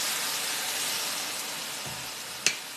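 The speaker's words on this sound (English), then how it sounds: "I'm going to put some of the Braggs on here, which will steam" Liquid aminos poured onto hot toasted seeds in a pan give a steady, fairly faint steaming hiss, with one small sharp tick near the end.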